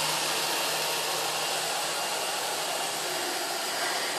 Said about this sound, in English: Did that Roomba just hit you?